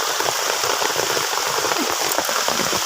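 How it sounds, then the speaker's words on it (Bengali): Heavy rain pours steadily outdoors, a dense continuous hiss of drops drumming on surfaces, close and even throughout with no voices. "এবার নিতে এসেছি কালীকে, আবার ভিজে গেছি, জোর জল এসে গেছে।"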